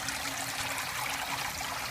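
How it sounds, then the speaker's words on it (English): Water trickles and splashes faintly and steadily through a home aquaponics system, a continuous soft wash of flowing water with no voices. "Then the water overflows out of there to this pipe down here, and then it goes down into the gravel."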